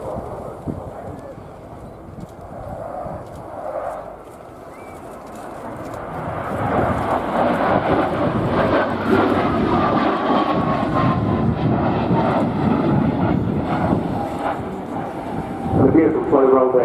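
A Polish Air Force MiG-29 jet flies at the RIAT 2016 airshow, its roar building from a distant rumble to a loud, sustained blast while an announcer talks over it.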